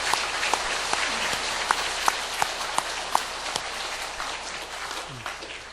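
A church congregation applauds during a service, with dense, steady clapping that holds strong, then gradually thins out and fades near the end.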